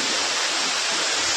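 A river rushing beside the Bhalukpong to Bomdila road in Arunachal, a dense, steady roar of flowing water, loud and close, with no voices.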